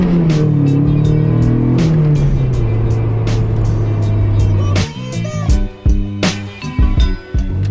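A Toyota MR2 fitted with a short shifter cruises in fifth gear at about 40 km/h. A loud, close engine drone holds steady, then breaks into uneven pulses as the load changes.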